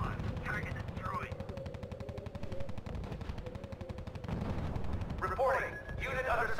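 Sustained gunfire from the video game R.U.S.E., with dense, continuous rapid shots and heavy bursts, loud and close, under a game voice speaking.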